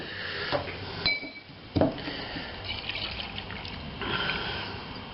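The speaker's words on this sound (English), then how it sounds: "just going to pop a bit more water in there" Water poured and trickling into a glass jar of rinsed brewing yeast, with soft splashing, a couple of sharp clinks of glass and quiet handling noises, close and fairly faint.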